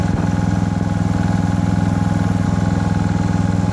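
A Honda EG2800i inverter generator runs steadily at close range with little vibration, a smooth, even droning hum with a constant rhythmic pulse and no voices.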